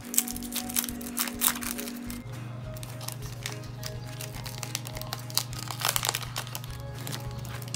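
Topps basketball card packs being torn open, the foil wrappers crinkling and crackling up close in a continuous busy rustle over a steady low hum, with no talking.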